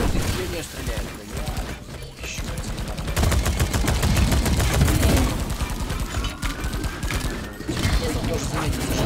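Rapid automatic gunfire in the mining shooter Deep Rock Galactic rattles in dense bursts, loud and close, with shouted voices mixed in.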